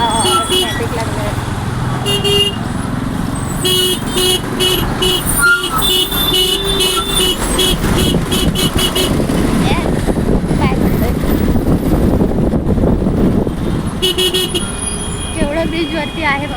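Heavy traffic jammed on a bridge in the late afternoon, with car horns tooting repeatedly over a dense, steady engine rumble and voices talking nearby.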